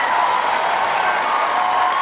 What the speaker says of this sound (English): it's Isner who stays on court to take a standing ovation from this beyond capacity crowd on court 18